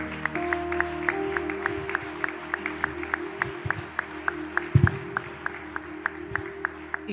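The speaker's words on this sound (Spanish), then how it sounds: "Denle otro aplauso a Dios" Church congregation applauding during a Spanish-language service, clapping in an even rhythmic beat over a sustained organ or keyboard tone, with a brief louder burst midway.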